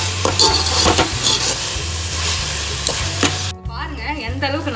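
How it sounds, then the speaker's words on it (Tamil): Onions and tomatoes sautéing in a pan for soya chunk biryani, a steady close sizzle with repeated scraping stirs of a utensil against the pan, loud and busy, briefly interrupted before the stirring resumes. "வெங்காயத்தோட பிளெண்ட் ஆகிற அளவுக்கு நல்லா வதக்கிக்கோங்க"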